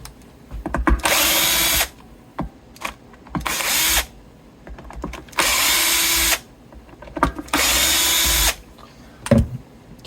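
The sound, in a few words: Bosch power drill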